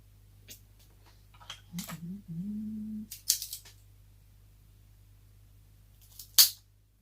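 A cutter snaps through an H. Upmann Connoisseur B cigar in two sharp, close clicks a few seconds apart, with a low steady hum underneath.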